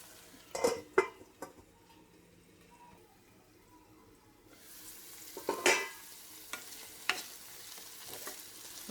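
A capsicum and cluster bean curry is stirred in a pan: scattered scrapes and clinks of a spoon come over a faint simmering sizzle, then fuller stirring bursts in the second half, with no talk.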